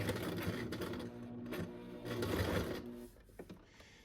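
A sewing machine stitches a cloth face mask, running in close, rapid rattling bursts of needle clatter with a mechanical hum, pausing briefly before falling quiet near the end.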